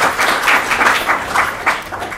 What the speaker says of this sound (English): what better way to welcome your own self with a big round of applause